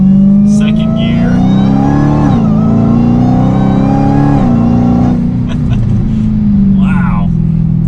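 A Dodge Challenger SRT Hellcat with 707 horsepower accelerates hard in second gear, its loud engine roar climbing in pitch with a brief dip mid-pull, heard from inside the cabin with someone talking over it.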